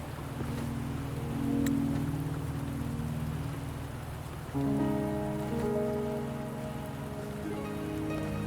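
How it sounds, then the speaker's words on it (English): Rain falls steadily in the Wuthering Waves game world, a dense pattering wash that runs throughout, with sustained low tonal layers of music shifting beneath it partway through. "Are you trapped here by the rain?"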